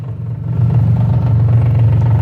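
A turbocharged Nissan Maxima engine runs at a steady idle close by, a deep rumbling drone that swells slightly partway through and then holds level.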